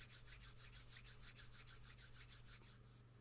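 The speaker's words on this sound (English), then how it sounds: "And then gently rub your hands together," Palms rubbing together steadily during a Kundalini meditation, a soft rhythmic swishing of skin on skin repeating about every quarter second, close and fairly quiet over a low steady hum, with no talking.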